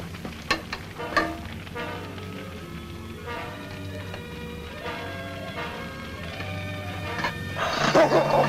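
A dog attacks a man in an old Yukon adventure drama, with scattered sharp bursts and scuffling that swell into a loud, harsh snarling commotion near the end, no clear speech.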